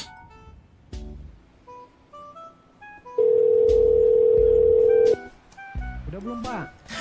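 A telephone call being placed: a series of short dialing tones, then a long steady tone of about two seconds, with voices talking around it.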